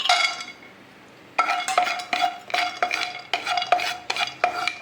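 A spoon repeatedly scrapes and clinks against a metal pan in a steady stirring rhythm, with almonds and cashews rattling inside as they dry-roast.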